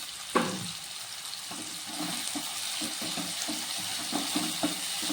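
Three chopped tomatoes sautéing with salt in a hot pan give a steady, close sizzle, broken by light scraping and tapping as they are stirred.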